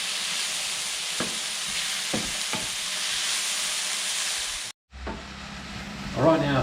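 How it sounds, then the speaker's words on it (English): Garlic and cherry tomatoes cooking in a pan over medium heat give a steady close sizzle and bubbling hiss, with a few faint utensil taps, a brief cut to silence, then more sizzling. "We'll keep this on a medium heat and slowly cook that down so the tomatoes break up and become part of the sauce"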